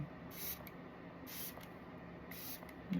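Setting spray mists onto a made-up face in three short, bright hisses, spaced about a second apart and close to the mic, with a quiet room behind them.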